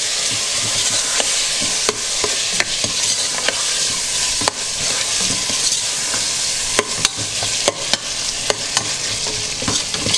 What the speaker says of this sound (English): I'm going to put them in. And we cook it.